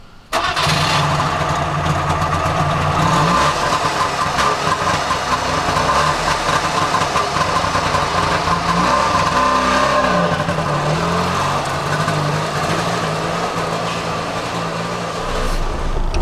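A Trabant, the East German communist car with a column-mounted manual shifter, starts on a Berlin street, then its small engine runs steadily and loudly for a long stretch without any talking.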